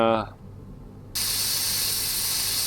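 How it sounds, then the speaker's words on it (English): Lubricant spray can in Offroad Mechanic Simulator, a sudden steady high hiss that starts after a brief pause and continues evenly to the end, following a short tonal sound at the start. "Spray lubricant so that we can"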